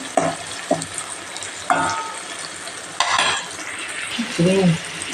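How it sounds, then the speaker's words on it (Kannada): Soya bean chunks and tomato fry in a pan with a steady close sizzle. Repeated stirring strokes and light clinks of a spoon against the pan stand out, and no one speaks. "ಸ್ವಲ್ಪ ಫ್ರೈ ಆಗಲಿ"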